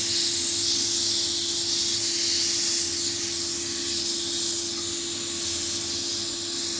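Compressed air hisses out of a leaking Dnipro-M compressor with a 100-litre receiver, a loud, unbroken close-up hiss with a steady high tonal whine underneath.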